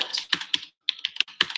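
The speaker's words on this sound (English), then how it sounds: "regardless of what you're actually typing, it always just feels a little bit more. It feels a little bit more sophisticated" Rapid clacking keystrokes on a Qwerkywriter typewriter-style keyboard, a quick run of crisp close-up taps with a short pause midway, loud and alone.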